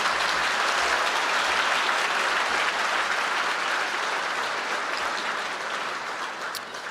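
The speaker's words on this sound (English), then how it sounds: "You may now applaud." A banquet audience at a scholarship foundation dinner applauds in a dense, sustained roar of clapping that gradually tapers off toward the end.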